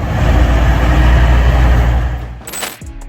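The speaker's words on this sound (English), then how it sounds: "a massive semi-truck rumbles by. It's got that unmistakable long nose, the engine roaring ahead of the driver" A long-nosed American semi-truck rumbles past close by with a loud, deep engine roar that holds steady, then drops away after about two seconds.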